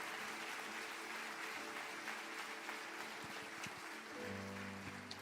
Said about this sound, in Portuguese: Vamos aplaudir o Senhor de novo